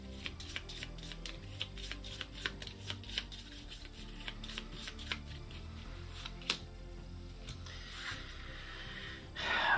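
A deck of cards is shuffled in a game of Thunderstone Quest. Soft, quick riffling snaps repeat steadily and close up for several seconds against a quiet background, then a brief louder rustle comes at the end.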